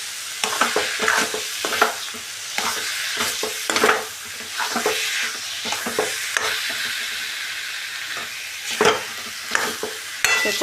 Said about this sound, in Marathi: गूळ वितळून पूर्ण घट्ट होईपर्यंत असं हलवत राहायचंय.